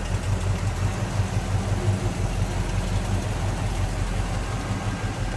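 A 1978 Pontiac Trans Am with a Pontiac 400 V8 and a mild cam idling, a steady low rumbling burble with a slightly uneven, lopey pulse throughout.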